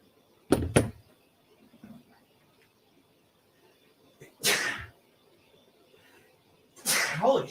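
A person inside a car stuck in a traffic jam lets out a loud, close sneeze near the start, followed later by two more bursts of breathy noise against a quiet cabin.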